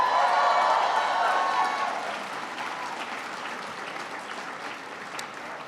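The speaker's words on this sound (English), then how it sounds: "Can everybody please give a big round of applause to Judy Chu for her outstanding service?" An audience at an awards gala dinner breaks into warm applause for Judy Chu, loud clapping at first that thins and fades into a lighter, scattered patter.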